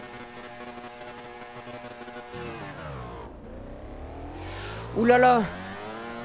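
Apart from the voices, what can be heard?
motorcycle engine revving at race start, Valentino Rossi The Game video game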